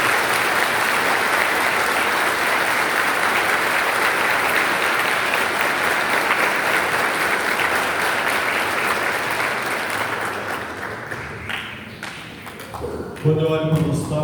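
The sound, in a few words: congregation applause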